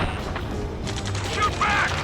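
Dense battlefield gunfire in the video game Ace Combat 7, a continuous roar of shots and bursts with soldiers' voices shouting over the din.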